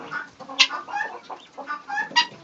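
Chickens cluck repeatedly in a winter coop, a busy overlapping series of close, moderately loud clucks and squawks with no talking.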